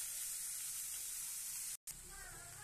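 Onions fry in a pan for a bitter gourd fry, a constant soft hiss and sizzle with a brief dropout, close and steady with no clear talking over it.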